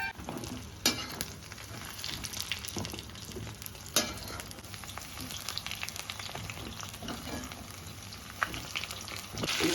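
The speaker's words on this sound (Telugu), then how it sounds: "కొంచెం ముక్కలు వేసుకుని ఇలా వేయించుకోవాలండి" Drumstick pieces frying in hot oil in a home kitchen, a continuous close sizzle broken by occasional stirring knocks and scrapes, moderately quiet and without talk.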